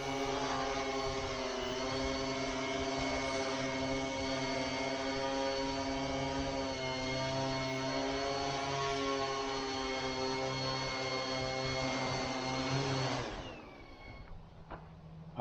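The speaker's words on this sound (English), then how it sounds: "Wind's picking up, copter's not tuned, I got a lot of weight on it." A large multicopter drone carrying heavy weight and not yet tuned hovers in the wind, making a loud, steady whine with stacked harmonics that wavers slightly as it oscillates, then drops off abruptly near the end.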